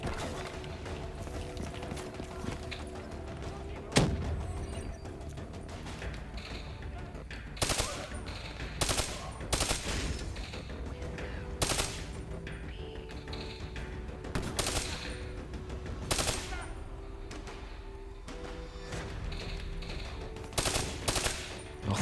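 Gunfire in Call of Duty Black Ops 3 comes as short repeated bursts and single shots scattered through the stretch, with game mechanisms clicking and clattering in between and a player talking at times.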